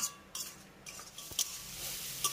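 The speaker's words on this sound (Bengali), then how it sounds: "এবার আলুগুলোর সঙ্গে মশলাটাকে আমি 2 মিনিটের মতো কষিয়ে নেব।" A metal spatula scrapes and clinks in a pan as fried potatoes are stirred with spice paste, producing quiet, intermittent taps with a couple of sharper knocks.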